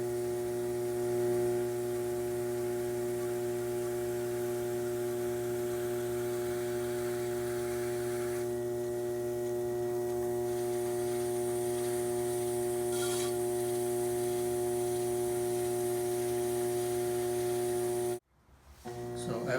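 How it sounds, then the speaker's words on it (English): A pottery wheel spins fast during the final trimming cut on a 2-lb bowl, giving a steady motor hum with a soft scraping hiss from the tool on clay. The sound runs continuously, then stops abruptly near the end. "The very final cut, I usually like to spin my wheel very fast. So I will cut the surface"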